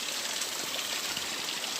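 Steady rushing of flowing stream water, close and continuous, with no voices.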